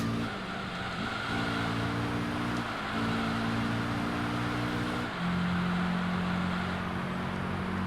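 A Honda NSX race car in a racing video game runs at a steady, sustained engine drone with several shifts in pitch. The car sounds close and fills the track on its own, with no talk over it.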